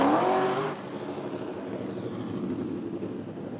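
Vintage Outlaw stock cars, including a 1965 Ford Galaxie, race at Rockford Speedway; a loud engine roar passes close at the start, then settles into a steady, more distant drone of cars circling the track.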